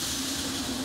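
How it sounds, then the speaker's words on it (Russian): A passenger train from Moscow pulls into the station at Abakan on the second track, a loud, continuous rumble and hiss of rolling wagons with a steady tonal hum. "Поезд прибывает с другой, непривычной стороны, на вторые пути"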